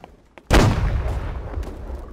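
A ship's cannon fires in the naval battle video game Holdfast: Nations At War, one loud sudden boom after a quiet moment, followed by a long rumbling decay.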